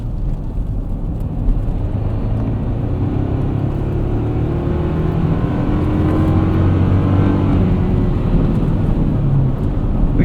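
A turbocharged 2.4-litre iForce four-cylinder in a 2024 Toyota Tacoma TRD Off Road, heard while driving through the Southern California desert. A steady, loud engine drone with rising whine and whooshing turbo tones carries throughout.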